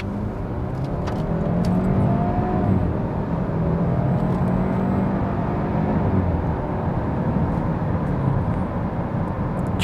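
A petrol car on a dealership test drive pulls away, its engine hum rising in pitch as it accelerates, heard steadily from inside the cabin with no one talking.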